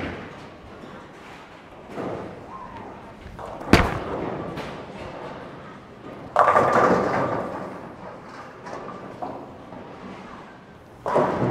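A Storm Absolute bowling ball on a bowling lane. A low rolling rumble leads to a sharp crack, then a loud, sustained clatter of pins being struck. Another burst of impact sounds at the very end.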